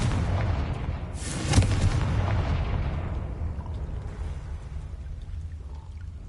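A Confringo fire spell blast in Hogwarts Legacy lands as a sharp, loud burst about a second and a half in, over a steady rumbling game backdrop that fades slowly afterward.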